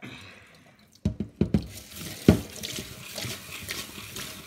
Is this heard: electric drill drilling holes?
no